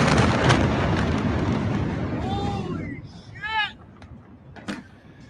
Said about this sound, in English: That's just chemical explosions.